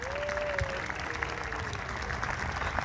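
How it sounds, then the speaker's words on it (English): An outdoor audience at a concert band performance applauds, a steady wash of clapping with a few sharper nearby claps standing out, running evenly throughout with no talk over it. "And how about another round of applause for our special guest tonight, Miss Kenosha, Willow Newell."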